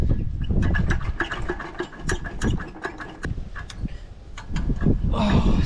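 A 1982 Honda Odyssey engine runs roughly and unevenly, its sputtering low rumble rising and falling with irregular pops and rattles, close and loud throughout.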